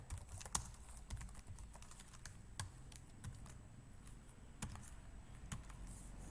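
Quiet, close keyboard typing as Python code is entered on a computer, irregular key clicks with a few sharper taps and short gaps, no speech.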